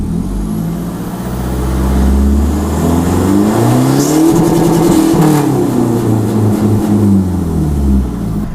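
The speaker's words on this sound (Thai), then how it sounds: "ไปฟังเสียงตัดดูครับว่ามันตัดได้จริงไหมครับ" A remapped 2020 Isuzu 3.0 diesel pickup with an add-on ECU box revs up loudly and close, climbing to the rev limiter and then falling back, with a steady engine drone around the peak.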